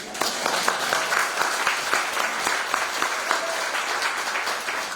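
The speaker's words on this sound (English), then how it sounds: "Which does deserve a round of applause." Audience applause at a theatre pre-show talk, a dense, steady wash of many hands clapping that fills the whole stretch without letup and with no voices over it.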